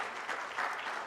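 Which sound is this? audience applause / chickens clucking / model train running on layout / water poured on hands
audience applause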